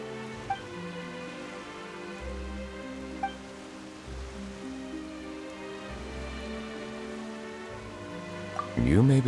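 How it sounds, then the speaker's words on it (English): Rain in Genshin Impact pattering steadily on surfaces across the scene beneath a soft musical score, with a sharper swell near the end. "Why is it raining all of a sudden?"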